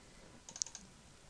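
Computer mouse clicked in quick succession, a few crisp, faint clicks close together in a quiet room, near the mic.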